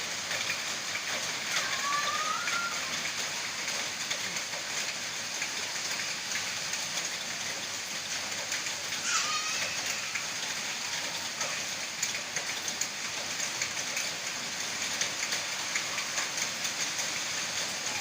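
Steady rain hisses evenly throughout, with a couple of brief bird chirps rising above the wash of falling water.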